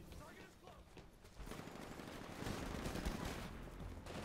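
Shotgun gunfire in the game Titanfall, a burst of heavy overlapping shots rising in loudness, with a faint voice and game noise underneath.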